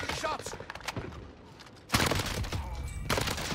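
Rapid automatic gunfire from the Warzone video game on Rebirth Island crackles in bursts, heaviest in the second half. A voice talks over the shooting.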